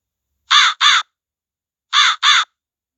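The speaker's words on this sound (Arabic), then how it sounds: "crow." A crow gives two pairs of loud, harsh caws, each pair quick and close together, separated by a second of silence.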